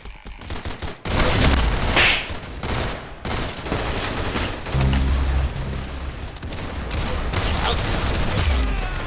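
Dense bursts of rapid gunfire from a video game shooter, loud and continuous, with brief gaps between volleys.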